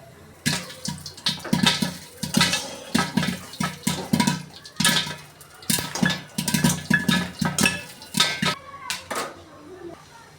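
Corn kernels burst one after another in a covered pan with oil and salt, giving loud, close, irregular pops that come in quick bursts with brief gaps between them.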